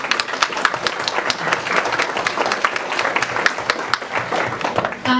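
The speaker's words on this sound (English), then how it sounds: "let's give her all a big round of applause" An audience at a community presentation applauds, dense steady clapping from many hands that holds throughout before cutting off at the end.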